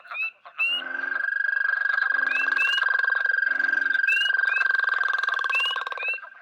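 Loud, continuous frog chorus from a pond with a steady trilling drone, punctuated by short rising chirps and deeper croaks, close and dense.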